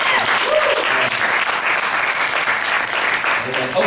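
Loud, dense audience applause at the Defiance Conference 2012, a steady wash of clapping from a large crowd with voices mixed in underneath.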